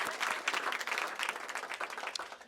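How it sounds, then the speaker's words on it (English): Audience applause at an urban heat island grant awards event in Louisville, a steady wash of many hands clapping at close range that runs through the whole stretch, fairly dense and even. "So you want to clap for Brightside?"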